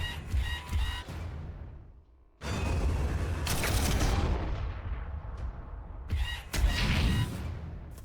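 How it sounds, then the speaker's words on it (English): Artillery fires in turn-based Warhammer 40000 Armageddon combat, heard as several heavy booming bursts with rumbling tails and short sharp cracks, loud and close with brief gaps between. "I need to drop this artillery, though, because it's sitting there shooting me every damn turn."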